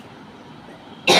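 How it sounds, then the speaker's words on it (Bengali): A single loud, harsh cough bursts out at the very end, after a quiet stretch of kitchen room tone, from a person suffering a heavy cough attributed to drinking cold fridge water. "ফ্রিজের ঠান্ডা জল খেয়ে খেয়ে প্রচণ্ড কাশি হচ্ছে"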